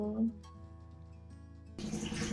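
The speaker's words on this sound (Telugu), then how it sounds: "అందులో కొద్దిగా వాటర్ వేసుకుంటున్నాను" Water poured into a pan heating on a stove while making dahi palak paneer, a steady broadband rush that starts abruptly partway through after a quieter tonal hum.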